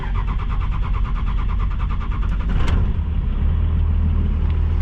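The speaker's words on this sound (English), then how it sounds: "Let's see how this truck starts." A truck engine cranks with a rhythmic starter chug for a couple of seconds, then catches and settles into a loud, steady low-pitched idle rumble.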